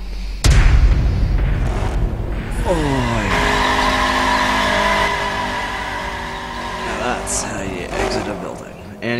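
Car crash and skid in the racing video game The Crew, with a loud impact, tires screeching and a revving engine that rises and falls, while a voice talks over it.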